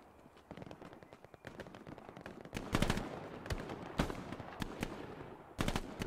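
Bursts of rifle and machine-gun fire in Hell Let Loose during a night battle, sharp sharp cracks in irregular clusters, some close and loud, others more distant, against a low background rumble.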